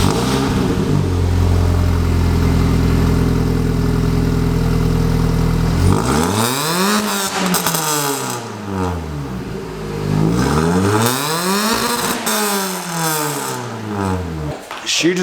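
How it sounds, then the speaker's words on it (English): A Mini Cooper R53 engine idles loudly, then revs up and down several times in rising and falling sweeps, the exhaust sounding raspy and close. "we need to hear what our exhaust sounds like."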